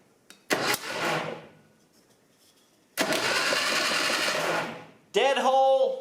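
A Datsun 520 engine, long abandoned, cranks on the starter in two separate bursts, the second longer and close up, and a voice speaks briefly at the end.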